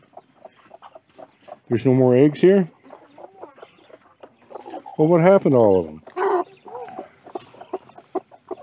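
Hens clucking close by, with two loud bursts of harmonic calls standing out over softer clucks, while a person talks intermittently nearby.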